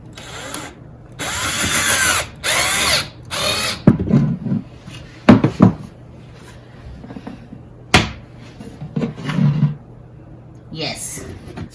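A power drill drives screws into a kitchen island frame built from 2x4s, with several short whirring bursts and ratcheting clicks spaced between pauses, close by, with a person talking in between.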